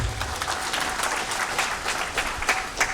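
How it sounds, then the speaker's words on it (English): An audience at the Arewa House 50th anniversary gathering applauds the governor, a dense, steady round of many hands clapping throughout, moderately loud and close. "We should give him a round of applause."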